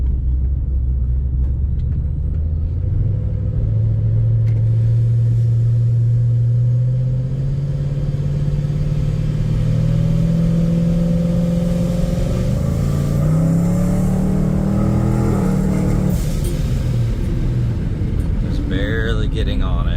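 A Procharged, cammed 2012 Chevrolet Camaro 2SS with about 600 hp on E85 accelerates hard, its loud, close engine note climbing steadily in pitch through a sustained pull before easing off near the end.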